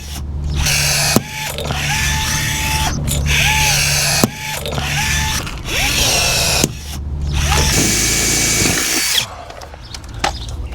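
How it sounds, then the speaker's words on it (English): A power drill bores into a metal C channel during repair of an aircraft's separated rear end, running in several loud, steady bursts with brief pauses between them, up close, with no talk. "he's drilling into one of the edges there, and that's what he's affixing the skin to."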